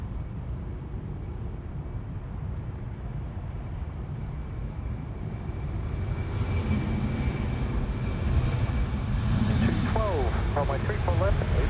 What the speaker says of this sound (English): I am just going to track the departure of the Qantas 737